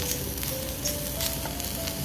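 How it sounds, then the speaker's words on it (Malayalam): Prawn pieces sizzling and frying in a pan over a medium flame while being stirred, a steady dense crackle close by with no voices. "ഇനി മീഡിയത്തിൽ ഫ്ലെയിം ഇട്ടിട്ട് നമുക്ക് ഇളക്കി കൊടുക്കാം"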